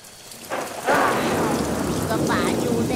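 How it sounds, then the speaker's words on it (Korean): Heavy rain pours down in a stormy scene from an animated children's series, a loud, dense wash of noise that surges in and holds steady, with short vocal sounds heard over it. "비가 많이 오네."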